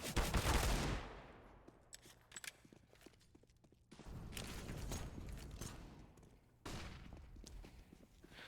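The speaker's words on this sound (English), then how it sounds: "Nice shot onto simple with the deagle." Desert Eagle pistol shots in a Counter-Strike match on Mirage, a few sharp bursts of gunfire separated by quieter stretches of footsteps and game ambience.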